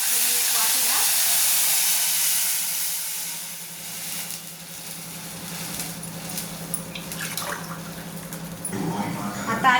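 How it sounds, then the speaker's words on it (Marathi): About one and a half glasses of water poured into a pan of browned cashews comes to a boil, giving a soft steady hiss with light bubbling and crackles that grow livelier toward the end. "आता आली पाण्याला उकळी"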